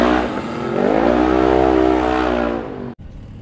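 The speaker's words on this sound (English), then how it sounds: "So it sounds like there's a diesel out there and he's got like air brakes" A loud diesel engine from snowcross and UTV racing roars steadily with a rising, droning growl for a few seconds, then cuts off abruptly, leaving quieter background noise.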